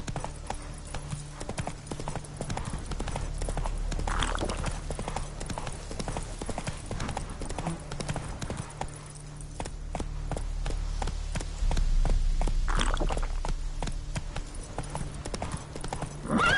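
Roach, the horse in The Witcher 3, trots along with a rapid, even clip-clop of hooves close by, a brief whinny and a shouting voice breaking in partway through.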